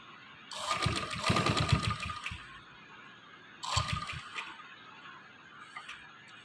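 A sewing machine stitches lace onto a dupatta in two close bursts of rapid, whirring, rattling stitching, the first about two seconds long and the second shorter, separated by a quiet pause with no talk.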